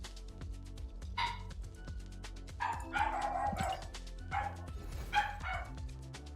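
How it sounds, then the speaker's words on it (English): Several dogs bark and yip in short repeated bursts over a steady low background hum, the barking fairly close and excited, with no talk over it. "Doggos are going nuts, man."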